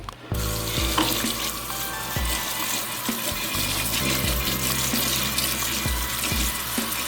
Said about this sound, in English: And run some cold water over it to stop the cooking.